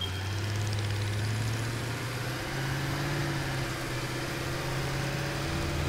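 A tractor engine drones steadily while driving in the factory-building game Satisfactory, a continuous loud hum with a low rumbling tone and no pauses.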